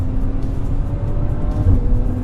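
A 2018 Maserati Levante S petrol engine runs loud and close in a steady, deep drone with a low rumbling swell, no voices over it.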